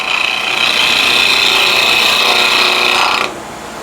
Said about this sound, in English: use a nice shear scrape action just to